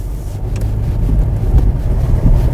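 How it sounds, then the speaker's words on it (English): A 2016 Mazda CX-5 with all-wheel drive drives off-road through snow, giving a steady low engine and tire rumble with wind buffeting throughout, close and continuous. "this is some fun snow driving off-road"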